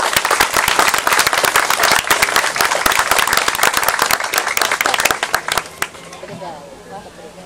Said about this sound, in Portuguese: Uma salva de palmas para a Murada e a Praça Olegário Maciel.